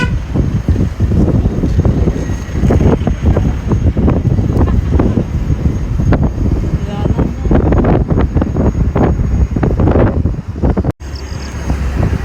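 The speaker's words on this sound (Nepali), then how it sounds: "तर हावा चाहिँ चिसो हावा आएको छ क्या" Cold wind blowing outdoors in light sun on a hill road, buffeting the microphone with a loud, continuous low rumble that gusts and fluctuates throughout, with no clear talk.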